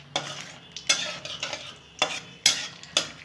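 Whole cumin, bay leaf, cinnamon, cardamom and cloves frying in hot oil in a pan, with a spoon scraping and stirring in quick, uneven strokes over a soft sizzle, close up and without talk.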